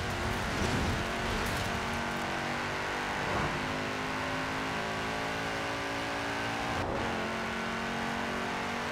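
A 760 PS car in the racing game Forza Horizon 4 roars at high revs, with a continuous loud engine note that surges and dips as it shifts and accelerates.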